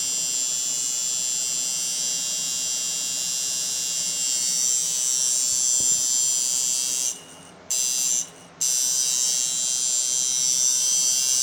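A tattoo machine set up for lining runs as a loud, steady high-pitched electric buzz, cutting out twice briefly near the end and then resuming, with no voices.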